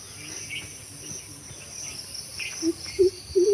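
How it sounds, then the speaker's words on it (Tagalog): Low, hooting bird calls repeat three or four times toward the end, over a steady high drone of insects and a quiet outdoor background. "Narinig niyo yung ibon"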